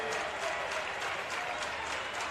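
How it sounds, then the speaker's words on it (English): Fans at a Class 4A state championship high school baseball game, Lake Central vs Mooresville, standing to applaud and cheer, a dense, steady wash of clapping close and loud with no pause. "His fan base standing to cheer him on."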